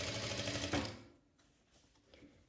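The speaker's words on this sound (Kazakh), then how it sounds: "Енді осы бөлікті міне тігістерін бір-біріне қосып, машинкамен айналдырып тігіп шығамыз." A sewing machine stitching turban seams whirs loudly and steadily for about a second, then fades to a softer, intermittent mechanical hum, with no voices.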